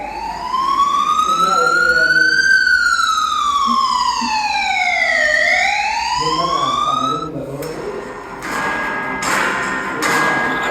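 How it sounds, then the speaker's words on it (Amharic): A wailing ambulance siren sweeps up and down in pitch, loud and close, then gives way to shorter bursts of alarm tones with voices faintly underneath. "አምቡላንስ!"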